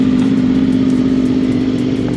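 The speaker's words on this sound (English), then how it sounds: "VFR is running." A Honda VFR motorcycle engine idles steadily close by, a loud, even mechanical drone with a strong low hum and regular pulsing, heard alone.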